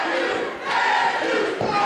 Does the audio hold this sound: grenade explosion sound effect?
no